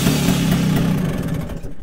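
A small engine started with a JF.EGWO 2000A jump starter cranks and catches, giving a loud, close, rough mechanical churn that fades out near the end with no talk.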